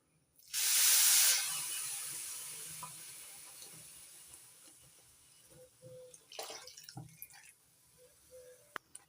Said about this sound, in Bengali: এবার যে বাটির মাপের সুজি নিয়েছিলাম ওই বাটির মাপেরই দুই বাটি গরম জল দিয়ে দিচ্ছি